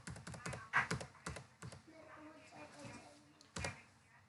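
Typing on a computer keyboard while entering line breaks, spaces and tabs into HTML code: scattered quick keystroke clicks in short bursts, moderately close. A voice talks faintly in the background.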